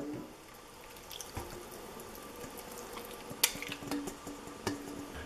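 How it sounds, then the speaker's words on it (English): Eighteen beaten raw eggs pour from a container into a crock pot for a breakfast casserole: a close, wet liquid splash and dribble with scattered drips and small clinks of the bowl. "we're going to put in our 18 scrambled eggs. We're just going to pour them in."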